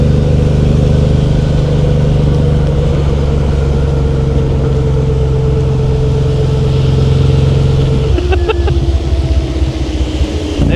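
Engine of a motorized racing sofa built for a track runs steadily at a loud, near idle for about eight seconds, then its tone drops and sputters unevenly toward the end; faint voices may be present.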